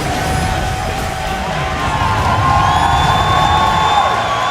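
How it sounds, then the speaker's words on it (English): An esports arena crowd cheers loudly and continuously, with whoops and yells rising out of a dense wall of applause and shouting. "The fans cheering behind them."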